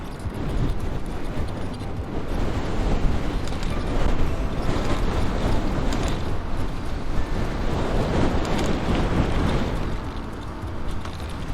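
Strong wind buffets the microphone in a shaded outdoor spot, a loud, continuous rumbling roar that swells and eases without a break.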